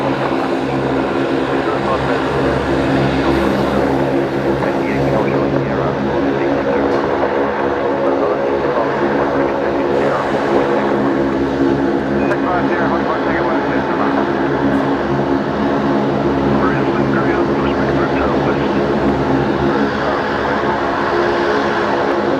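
An Atlas Air Boeing 747 arriving at Brisbane Airport and taxiing toward its bay, its engines a steady, loud, broadband roar throughout with a low droning hum beneath, and people talking faintly over it.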